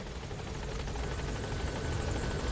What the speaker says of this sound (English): Let's call him a helicopter.